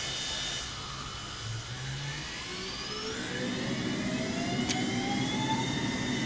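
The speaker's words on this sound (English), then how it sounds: "there is a 747 reverse thrust" Boeing 747 reverse thrust roaring in Microsoft Flight Simulator, a steady jet-engine rush with rising whine tones that grows slightly louder toward the end, with no voices.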